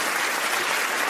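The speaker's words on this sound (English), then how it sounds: "So I'm going to definitely give them a round of applause on that." A round of applause fills the moment, dense steady clapping heard up close and loud with no talking over it, sustained without a break for about a second.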